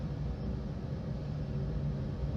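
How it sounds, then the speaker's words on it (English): A farm grain dryer runs in the background as a steady broadband rumble and whoosh, constant and unchanging, heard from a distance with no voices. "You can probably hear the dryer in the background of this voiceover"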